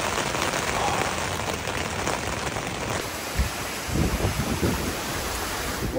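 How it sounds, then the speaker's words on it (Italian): Rain falling on a tent in strong wind during a bicycle tour, a dense, steady patter across the fabric with occasional heavier gusts and thumps, close and continuous with no voices. "sta piovendo e sta tirando un forte vento"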